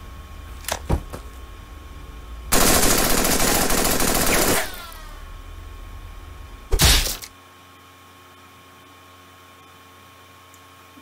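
Rifle gunfire in the Henry Stickmin video game, heard as a loud sustained burst of rapid shots for about two seconds, then a second short sharp burst, with faint game sounds before and quiet after.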